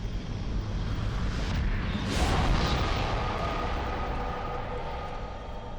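A demon boss dies in the video game Demon's Souls: a heavy, roaring rumble with a swelling burst of noise about two seconds in, then a sustained low roar that slowly fades.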